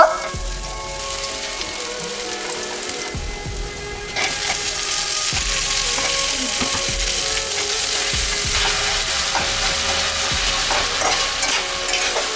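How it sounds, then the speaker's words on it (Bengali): Mutton pieces frying in a pan for momo filling, a steady close sizzle with occasional scraping stirs, growing a little louder partway through and continuing without talk. "এবারে আমি মাংসটাকে একটু ভাজার মতো করে রান্না করে নিব"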